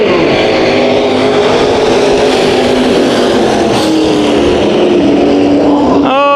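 Race cars roar around the Bakersfield Speedway dirt oval during an 8-lap heat race, a loud continuous engine drone with shifting pitch and a rising rev at the end.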